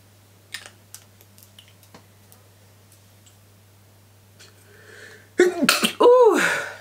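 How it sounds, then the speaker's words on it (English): Soft keyboard clicks and faint ticks lead into a sudden, loud sneeze set off by an Oakcha perfume, a close double burst near the end of an otherwise quiet room. "It does make me sneeze."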